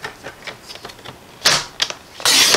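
Card stock for a birthday flap card is cut on a paper trimmer, a series of quick clicks and slides building to sharp, loud cutting swipes near the end, close by with no talk.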